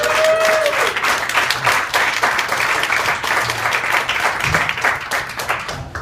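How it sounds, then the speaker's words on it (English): A crowd at a company holiday party gives the staff a loud round of applause, a full sustained wash of clapping with a brief whistle near the start. "So just one more round of applause for our staff."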